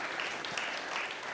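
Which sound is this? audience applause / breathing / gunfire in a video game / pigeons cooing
audience applause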